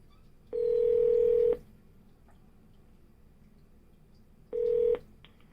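A Yealink desk phone gives two steady electronic keypad tones, each about a second long and a few seconds apart, clear and close against a quiet background.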